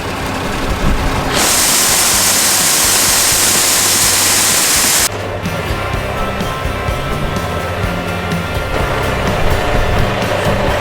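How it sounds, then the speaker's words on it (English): A seed auger on a tender moves soybean seed into planter hoppers, a loud continuous roar and rushing hiss that steps up sharply when it starts, then drops to a lower steady grinding drone for the rest, with no talking. "I pull this, it'll turn the auger on."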